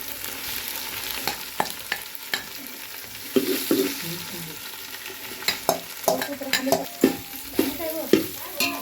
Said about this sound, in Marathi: बघा कांदा भाजलाय चांगला आता ह्यातच टाकूया बारीक केलेलं बघा खोबरं